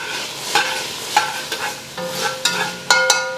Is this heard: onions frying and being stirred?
yes